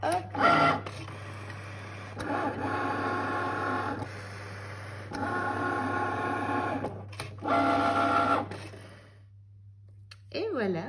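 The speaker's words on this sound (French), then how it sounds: "Et c'est parti pour la découpe." Cricut machine cutting thank-you cards, with three mechanical whirring passes of the carriage separated by brief pauses and a quieter tail, close and moderately loud, a person speaking faintly alongside.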